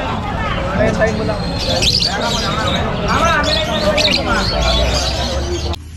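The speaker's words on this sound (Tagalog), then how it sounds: "Sa mga mahihilig po sa mga ibon, no? Mga lovebirds." Dense chattering, chirping and squawking of many lovebirds fills a kennel, loud and continuous, with people talking underneath.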